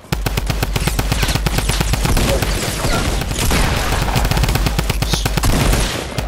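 Rapid, loud automatic gunfire in the video game Fortnite rattles continuously in dense bursts, close and overwhelming, with a few sharper single shots mixed in.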